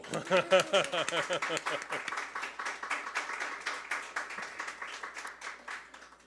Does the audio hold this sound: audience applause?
yes